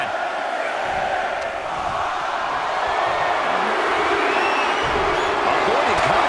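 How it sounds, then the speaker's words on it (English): A virtual wrestling arena crowd in WWE 2K24 chants and roars in a continuous loud swell, filling the whole span with layered voices and no clear pauses. "Listen to this crowd count the next one in."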